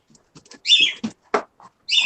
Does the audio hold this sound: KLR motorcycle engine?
no